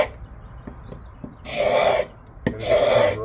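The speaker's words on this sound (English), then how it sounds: "the trick to get this little finish off is to just take your blade and scrape it" A knife blade scrapes the factory finish off a cheap Harbor Freight axe head in two long, rough rasping strokes, close and fairly loud, with small ticks and rubs between them and no talk.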